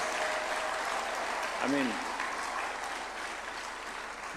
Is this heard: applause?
yes